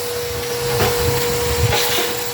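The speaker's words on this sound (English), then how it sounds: "we're vacuuming this out, as you can see right here" A vacuum cleaner sucks up loose mortar around a toilet flange on a tiled floor, a loud continuous whine with rattling bursts as debris is drawn in.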